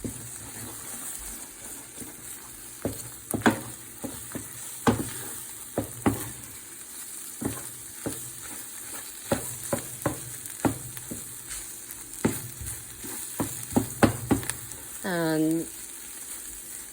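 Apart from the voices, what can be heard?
sweet potato fried rice frying and being stirred in a pan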